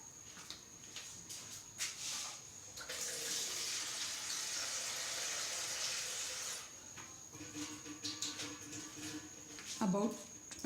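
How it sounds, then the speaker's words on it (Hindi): Water pours into a pressure cooker of beef trotters, a steady broad rushing splash that swells for several seconds then eases into trickling, with a voice talking over parts of it. "पानी डालेंगे"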